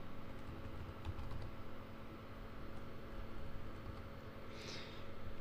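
Command typed on a computer keyboard, soft quick key taps in irregular bursts over a steady low hum, faint and close, with no speech.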